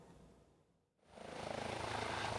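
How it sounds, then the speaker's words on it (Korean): A helicopter landing at the scene of a deadly fire at an Alpine ski resort bar, its rotor and engine rising from a lull into a loud, steady close whir with a pulsing beat. "헬기가 잇따라 착륙하고 구급차 수십 대가 줄지어 들어옵니다"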